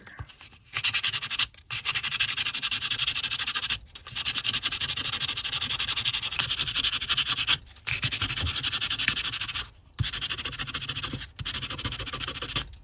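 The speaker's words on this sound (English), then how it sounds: "So I'm going to grab my Dremel tool. Now I'm going to sand" A Dremel rotary tool sands wooden knife handle scales for a Kephart knife, giving a steady, loud abrasive whir in long bursts separated by brief pauses, with no talking.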